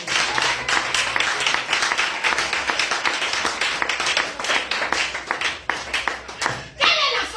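A church congregation claps to acclaim the Lord during a teaching service: dense, steady, rhythmic hand clapping that fills the space at moderate loudness, with voices mixed in beneath it.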